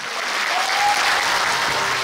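An audience applauds after a dance performance, a dense, sustained wash of clapping that stays loud and even throughout, with no talk over it.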